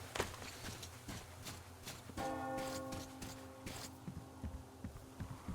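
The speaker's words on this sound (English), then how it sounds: "Do you hear that bell?" A bell in the video game Metro Exodus rings out in a clear, sustained tone, sounding amid footsteps and clattering game noise, fairly faint overall.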